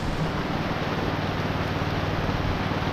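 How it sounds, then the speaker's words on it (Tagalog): Steady, dense rain hiss fills the space outdoors, an even wash of drizzle falling without a break and no voices over it. "Namumulisit ang ulan."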